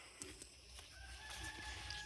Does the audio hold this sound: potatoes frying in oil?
no